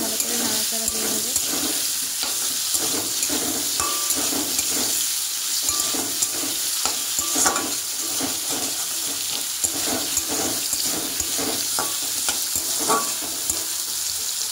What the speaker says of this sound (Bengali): ঢাকনাটা সরিয়ে কুমড়োটাকে ভালো করে নাড়াচাড়া দিয়ে নেব